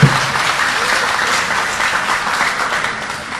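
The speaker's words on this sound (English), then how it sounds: "let's give a big applause for the University of Indonesia" A crowd claps steadily in sustained applause, a dense even patter of many hands without pause.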